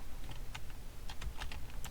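Computer keyboard keys are pressed to steer a plane in a Roblox game, producing a quiet, irregular run of soft clicks and taps close by over a low background hum, with no speech.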